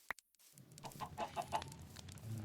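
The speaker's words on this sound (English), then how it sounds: "the honey farm, which is overrun by chickens." Minecraft chickens cluck on a honey farm overrun by them, a few soft, quick clucks in a short run over faint game ambience.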